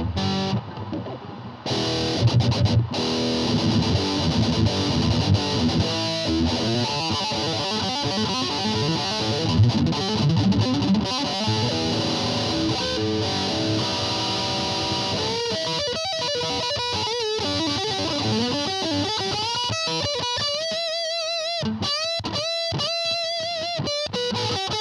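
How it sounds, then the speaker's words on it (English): A 2007 Gibson Flying V electric guitar with new pickups and tuning gears, played through distortion: sustained, thick overdriven chords and riffs, loud and continuous, ending in quicker picked single-note runs with brief gaps, no talk. "try this with a little bit of distortion here."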